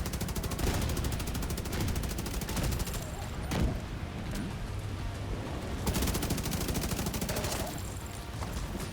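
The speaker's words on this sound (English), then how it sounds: "That guy was shooting down on me." Enemy gunfire in The Division 2, rapid continuous automatic bursts with occasional heavier booms, loud and dense throughout.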